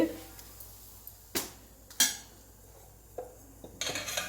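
A metal spoon stirring saffron into a laddu mixture in a pan, with a few sharp clinks and scrapes against the vessel spaced apart, fairly close, and faint talking in the background.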